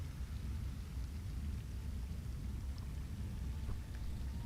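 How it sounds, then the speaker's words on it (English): Heavy rain pours steadily, a dense, even hiss of drops with a low rumbling undertone, continuous and close with no voices. "Of course, the rain gets worse."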